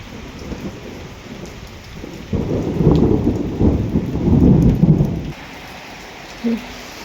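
Heavy rain driven by wind pours down in a dense, close hiss that surges into a loud, roaring wash in the middle, then eases back, with one short knock just before the end.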